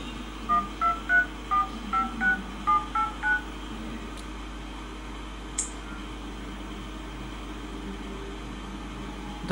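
Keypad tones from the touchscreen dialer of a Celkon AR 40 phone, about ten short evenly spaced beeps in quick succession, then quiet with a couple of faint taps.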